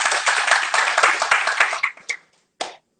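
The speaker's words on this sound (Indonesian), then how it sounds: "Berikan tepuk tangan." A church congregation claps together in a dense burst of hand claps that thins into a few scattered claps and stops near the end.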